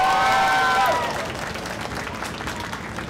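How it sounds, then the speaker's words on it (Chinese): A crowd at an outdoor political rally for a recall campaign's vote-counting day bursts into dense, sustained applause with a brief whistle-like tone at first, the clapping gradually easing. "那我们就热情掌声欢迎中研院法研所研究员黄国昌老师"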